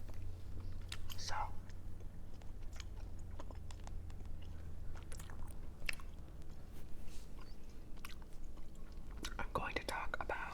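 Gum is chewed close to the mic in soft, wet, rhythmic smacks and squishes over a low steady hum, with faint whispering.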